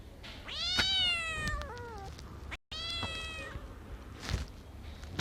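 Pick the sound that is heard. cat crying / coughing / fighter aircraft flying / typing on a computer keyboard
cat crying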